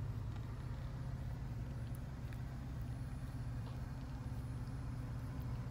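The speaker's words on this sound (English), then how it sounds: "You could probably hear the traffic from the interstate." Traffic from a nearby interstate highway forms a steady, low, distant rumble that continues evenly throughout with no other sounds standing out.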